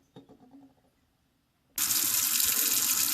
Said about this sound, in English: the key is rinsing these off and washing them before you cook them